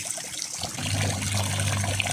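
Hands being washed under running water in Siófok on Lake Balaton, Hungary: a steady close trickle and splash of tap water lasting about two seconds, with no talking.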